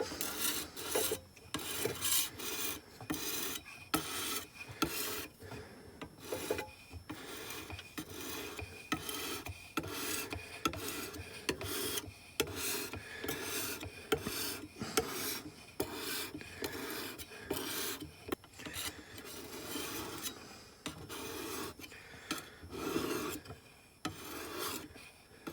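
An ulu knife blade is worked with fine-grit abrasive in repeated rasping strokes. The strokes come in a brisk, uneven rhythm, close and fairly quiet, with no talking.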